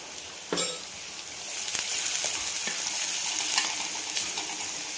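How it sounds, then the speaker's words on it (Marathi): Green chillies fry in hot oil in a pan for a besan pitla, producing a continuous close sizzle that swells after a sharp metallic clink at the start, with a few more spoon taps against the pan. "त्याच्यामुळे तेलामध्ये चांगली परतून घ्यायची ती"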